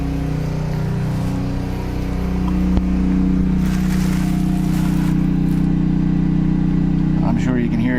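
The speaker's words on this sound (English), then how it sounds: "I'm sure you can hear the generator in the background." A Pulsar G12KBN dual fuel 12000 watt generator runs under a 4500 watt water heater load, giving a steady, loud engine drone with a constant hum throughout, while a person talks over it near the end.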